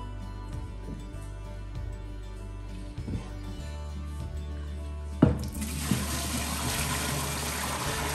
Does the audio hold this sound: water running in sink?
yes